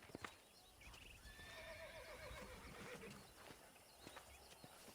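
Horses whinny and neigh amid clip-clopping hooves in the Red Dead Redemption 2 video game, a soft, steady outdoor scene with a few sharper hoof knocks near the start and end.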